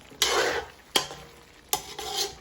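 Chop suey stirred in a pan: three scraping stirs of a utensil against the cookware, each followed by a sizzling rush, close and clear with no voices.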